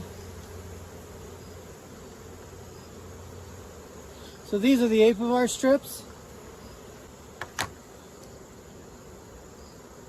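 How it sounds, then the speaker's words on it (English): Honeybees hum around an open hive during a mite treatment, a steady low drone that runs the whole time, while someone speaks briefly near the middle. "The bees are starting to get kind of testy"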